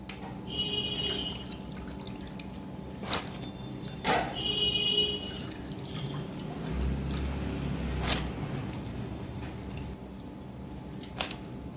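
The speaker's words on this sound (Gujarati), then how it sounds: "આ હવે તે આ બટેકાની પતરી ચોખ્ખા પાણીમાંથી કાઢી નાખીએ" Thin potato slices for wafers are lifted out of clean water and left to drain. Faint drips and small splashes come in scattered bursts, with occasional light clinks against a quiet background.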